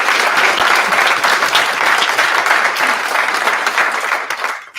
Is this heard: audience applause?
yes